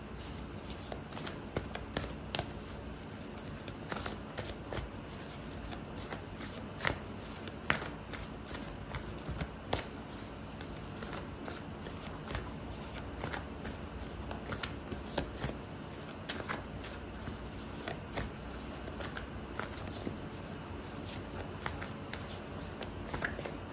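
Oracle cards are shuffled during a tarot reading, giving a steady, quiet, papery riffle and soft slapping that continues close-up throughout with small irregular clicks.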